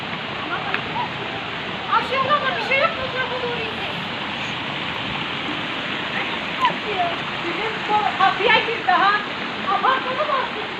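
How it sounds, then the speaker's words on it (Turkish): Heavy sudden downpour flooding city streets in Malatya, a steady loud roar of rain and running water throughout, with voices and shouts rising briefly over it. "Malatya'da aniden bastıran yağış cadde ve sokakları göle çevirdi."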